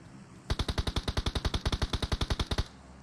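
Automatic gunfire in the PUBG Mobile video game, a single rapid burst of about twenty evenly spaced loud shots lasting around two seconds, with no talk over it.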